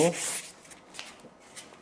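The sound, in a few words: sandpaper sanding a wooden cutting board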